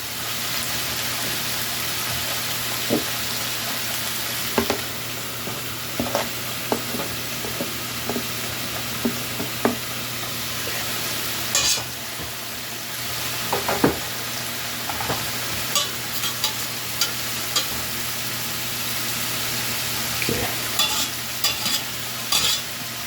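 Garlic sizzles and fries steadily in a pot for chicken tortilla soup, a constant bright hiss broken by scattered clinks and scrapes of a stirring utensil, close and moderately loud with no talking.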